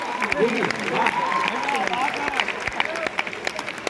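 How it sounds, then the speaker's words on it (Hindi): A crowd at a poetry recital applauds with scattered clapping beneath a murmur of voices and a loud sustained tone. "तालियां जोरदार आनी चाहिए"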